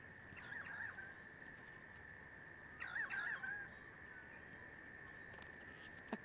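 Currawong calls in the video game Paperbark, two short warbling bursts a few seconds apart over a steady high tone and soft background music.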